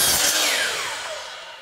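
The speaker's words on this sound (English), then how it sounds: "You just cut your trim," A power saw cutting through pre-painted wooden trim: one loud, close, continuous whine that slowly falls in pitch and fades as the blade spins down, with no voices.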